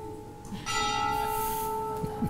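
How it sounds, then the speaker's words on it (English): A bell rings once near the end of a devotional talk at a Hare Krishna gathering, a bright sustained tone with a clear hum that rings on and slowly decays, loud and alone with no talking. "The bell."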